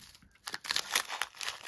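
Plastic packets of Czech seed beads being handled, giving quiet, scattered crinkles and rustles in short bursts, fairly close and soft.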